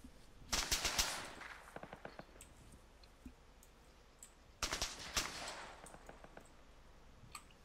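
Two separate bursts of rapid automatic gunfire in Arma 3 during a night co-op Antistasi mission, the first near 0.5–1 s and the second near 4.7–5.5 s, each a dense rattling volley that fades into a quiet background, with no talk.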